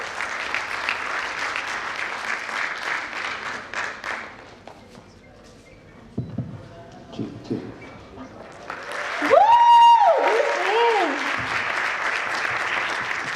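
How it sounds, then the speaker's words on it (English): Applause from an audience at a sports and exercise medicine conference, a dense steady clapping that fills the first few seconds, drops away, then returns with music-like tones and voices over it. "A big clap for her, please."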